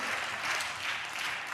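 A church congregation claps steadily together, a soft, even wash of applause heard from a distance.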